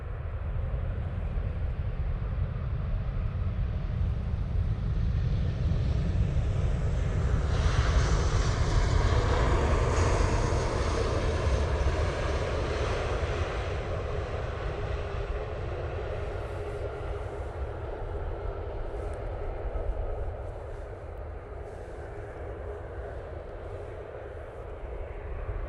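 A Ryanair passenger jet passes at Manchester Airport, its broad engine roar building and sustained for about 25 seconds, loud and near, then easing slightly toward the end.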